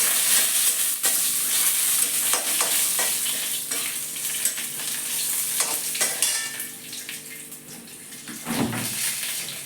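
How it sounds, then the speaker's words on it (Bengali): Garlic cloves, black cumin seeds and dried red chilies sizzle in hot oil and are stirred steadily in a pan, with bright, continuous frying hiss and scraping, briefly broken near the end by a louder scrape. "এই যে রসুনের কোয়া, এই যে কত ভালো করে ভেজে নেবো"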